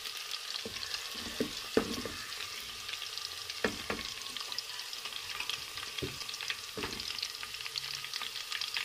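Cumin seeds sizzling and frying in a pan until light brown, a steady crackling hiss with occasional sharp pops and light stirring scrapes, close and alone without talk.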